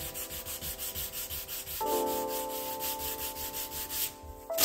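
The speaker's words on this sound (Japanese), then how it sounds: "ハードワックスは削れやすいので手で軽く研磨していきます。" Hard wax filler on a wooden frame being lightly sanded by hand, a close, steady rhythmic scratching of repeated strokes, with a faint tonal hum joining partway through.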